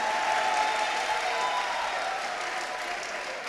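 A church congregation at an ADEPR service claps in sustained, dense applause that stays loud and steady, easing off slightly toward the end.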